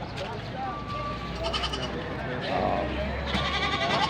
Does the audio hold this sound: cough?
no